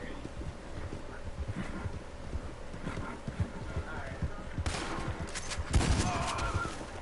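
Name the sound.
horse hooves in Red Dead video game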